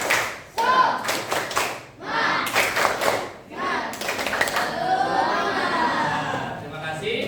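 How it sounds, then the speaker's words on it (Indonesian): A class of primary school children claps in quick rhythmic patterns with pauses between sets, the claps sharp and close, and young voices chant and shout along between bursts. "Sekali lagi tepuk semangat."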